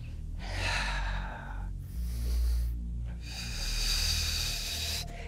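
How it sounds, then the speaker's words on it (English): Deep, long breaths during a Pilates session, three slow, close airy inhales and exhales, each a couple of seconds long, alone with no talk. "So let's take two more deep,"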